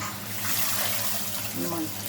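Water pours steadily into a cooking pot holding onion while rice is being prepared, a soft continuous splash and trickle heard close by, with a faint voice at one point.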